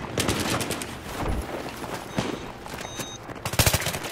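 Gunfire in Battlefield 3 on the Noshahr Canals map during a team deathmatch, with dense rapid bursts of shots and sharp cracks, loud and close, ending in a fast volley.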